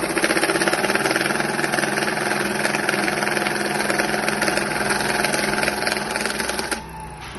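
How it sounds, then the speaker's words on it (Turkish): Bankers DSC-200 banknote counting machine sorting a mixed stack of Turkish lira and US dollars. Its motor gives off a steady, dense mechanical whir and rapid flutter of notes, which stops abruptly near the end. "Hiçbir şeye dokunmadan dolar aldığımızda doları sayar otomatik."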